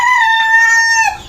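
A rooster crows once near and loud, a single drawn-out harmonic call that fades at the end, with no talk over it.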